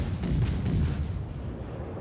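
Heavy naval guns fire in World of Warships, a deep, booming salvo with a rumbling low roar that slowly fades and echoes over two seconds, fairly loud and with no talk.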